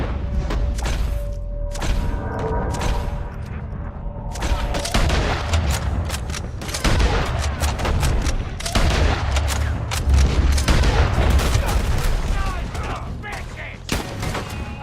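A sustained gunfight in Red Dead Redemption 2 brings dense, overlapping rifle and pistol shots, some near and punchy, others distant, firing in irregular volleys with occasional thuds and shouting voices mixed in.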